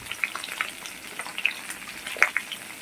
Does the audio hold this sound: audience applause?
no